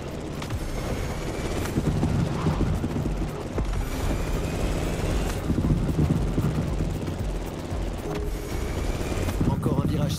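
An airplane engine drones loudly and steadily in The Crew Motorfest video game, a rough, continuous roar with some rhythmic texture and music or effects layered in.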